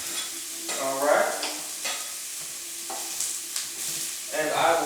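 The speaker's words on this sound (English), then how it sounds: "And I will start to let these sizzle." Peppers and onions sizzle loudly in a hot oiled pan, with scraping stirs and rattles coming and going over the continuous hiss.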